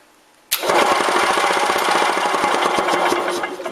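A 1981 Harley/Columbia golf cart starter/generator spins forward on the bench, starting abruptly after a brief quiet and holding a loud, rapid, rattling mechanical whir until the end.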